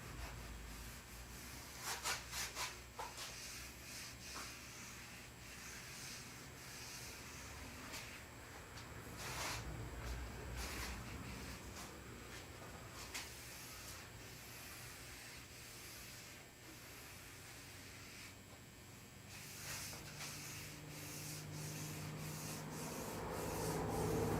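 A hand rubs oil along the edge of a wooden table in a shuttle bus RV conversion, giving a steady, close, dry rubbing and swishing that runs with a few sharper strokes and no talk.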